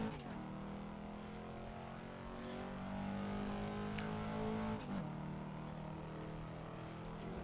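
HSV VE GTS V8 in a racing sim mod, engine droning and revving steadily at high pitch, then a quick shift with a brief dip before pulling again, loud and close.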